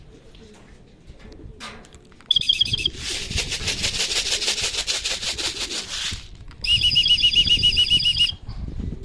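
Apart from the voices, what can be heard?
racing pigeons arriving, flapping wings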